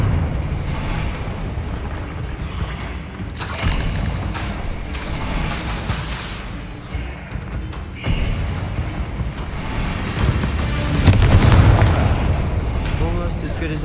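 A Confringo blasting spell goes off in Hogwarts Legacy, a booming explosion that lands around the middle of a dense game soundscape and swells again near the end, with a voice speaking over parts of it.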